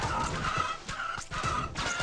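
Clucking chickens in the video game Swamp Attack 2, a steady run of hen calls close up with short breaks between bursts and a busy game soundscape behind them.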